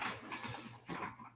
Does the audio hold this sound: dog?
yes